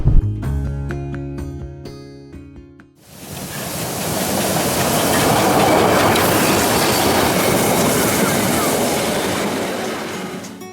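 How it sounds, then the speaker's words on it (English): After a few seconds of music, the Brockenbahn meter-gauge mountain train in Germany's Harz takes over, a steady broad roar with rhythmic rattling of wheels on track, close and continuous. "I personally love an old school train ride like this"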